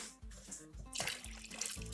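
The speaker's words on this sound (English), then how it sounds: "I'm just going to add 1 cup of water to one of the cans." Water poured from a can into a pot of hot dog chili with tomatoes, producing a wet, gurgling splash with a few rhythmic glugs; quiet and close, with no voices.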